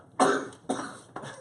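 Three dry coughs, close and fairly loud, each followed by a brief fade, with no talk around them.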